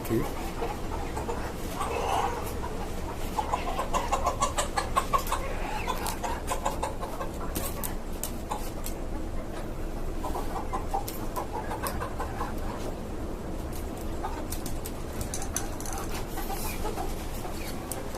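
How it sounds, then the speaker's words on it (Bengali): Tiger chickens on a small rooftop farm cluck and call intermittently against constant background noise, with people talking nearby. "এখানে নতুন দুইটা টাইগার মুরগি আপনার মাত্র শিফট করছে উপরে দেখতেছে যে কি অবস্থা"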